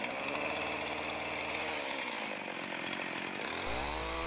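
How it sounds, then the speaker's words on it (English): A chainsaw runs steadily while cutting into a log beside an off-grid log cabin on a snowy day, a loud, close, continuous buzzing whine that dips in pitch under load and then revs back up. "You see me setting the chainsaw,"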